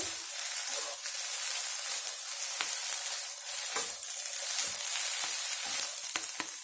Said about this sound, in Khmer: យើងបន្តមកយើងឆាវាតែ 1ត្រឡប់2ត្រឡប់ទៀតទៅបានណាយើងអត់ត្រូវការឆាវាឲ្យ យូរទេ